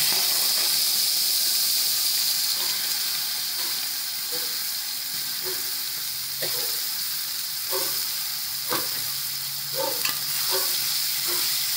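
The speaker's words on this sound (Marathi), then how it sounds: "त्यामुळे चांगलं परतून घ्यायचं तेलामध्ये, चांगलं शिजू द्यायचं चांगलं ते" Ground coconut paste sautéing in hot oil for a black-eyed pea pod curry, a steady bright sizzle with occasional scraping stirs of a spoon in the pan.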